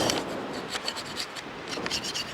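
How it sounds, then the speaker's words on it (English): Scraping old wax off a ski or board base with a flat tool, a dry rasping rub that runs steadily and close for a couple of seconds with no talk. "Maybe to scrape off old wax too."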